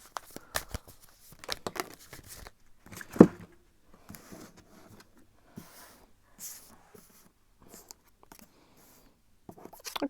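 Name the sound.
shuffling tarot cards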